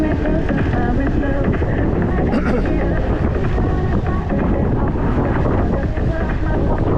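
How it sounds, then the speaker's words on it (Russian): Strong wind roars and buffets a microphone continuously, loud and close, with a low rumbling gust noise throughout and faint voices mixed beneath. "Капец ветер."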